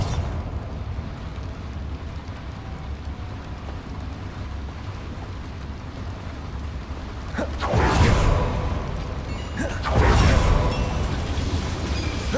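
A Bombarda spell explosion in the Hogwarts Legacy video game: a steady low ambient bed, then two loud, broad bursts with rushing, crumbly tails, one after the other.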